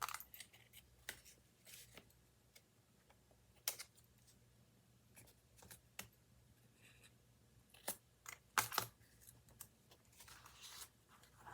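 Scissors trim paper for a ring bound journal in a series of quiet, sporadic snips and rustles, with brief sharp cuts scattered through soft crafting handling noise.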